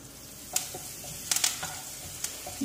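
Cumin seeds and curry leaves sizzle in hot oil in a pan, a steady faint crackle with a few sharper pops spread through it and no talking.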